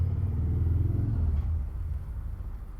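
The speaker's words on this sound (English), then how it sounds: "Motorcycle." A low engine rumble swells and fades as a motorcycle passes nearby on a busy road, steady and droning with no voices.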